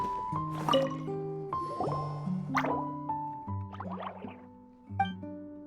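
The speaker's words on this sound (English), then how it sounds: "it sounds like a water droplet is on the second floor" Water droplet dripping in Genshin Impact's Treehouse Theater: a steady sequence of bright, plinking droplet tones with bubbly splashes, rhythmic and close, over soft game music, without speech.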